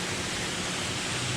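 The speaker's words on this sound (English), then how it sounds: "this waterfall." A waterfall in the hills of the Darjeeling and Sikkim region roars as a steady, close wash of broadband noise with no voices over it.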